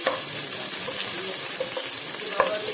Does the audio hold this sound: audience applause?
no